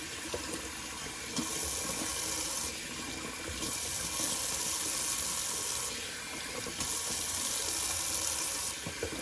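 Cold tap water runs steadily into a sink for a shaving rinse, a continuous close splashing hiss that swells and eases a few times, with no voices.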